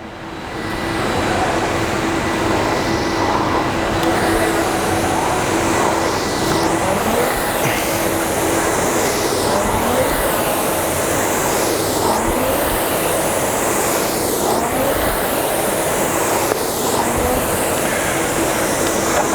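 A fan-flywheel rowing machine in steady use, its whirring whoosh rising and falling with each stroke about every two and a half seconds, close and continuous without speech.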